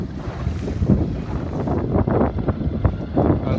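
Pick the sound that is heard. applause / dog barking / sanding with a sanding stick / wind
wind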